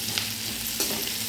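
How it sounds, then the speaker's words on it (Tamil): Onions sauté for a dal-free sambar made with roasted gram and coconut, a close, steady sizzle and hiss in the pan broken by brief stirring scrapes, with no talk. "வெங்காயம் வதங்கட்டும்."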